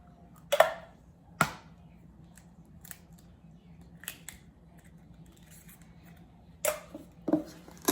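Two eggs cracked into a bowl while making Italian nachos: a few sharp, separate taps and cracks spread across several seconds, close and fairly quiet in a still kitchen, with no talking.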